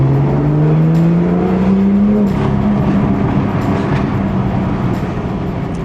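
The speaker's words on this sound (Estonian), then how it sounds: "Heli on selle auto kindlasti üks kõige suurem plusse. Eriti need paugud." BMW M2 F87 sports car engine accelerating hard, a loud rising tone that climbs for about two seconds, then shifts and keeps pulling strongly, with faint crackles over the roar.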